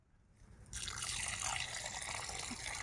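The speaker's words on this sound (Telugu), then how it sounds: "ముందుగా నీళ్ళైతే పోసుకుందాం" Water pours steadily into a pot for boiling eggs, starting after a short quiet moment and running as a constant splashing rush.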